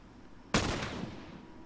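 A single sharp gunshot in The Last of Us, near and loud, with a trailing rumbling decay over a quiet background.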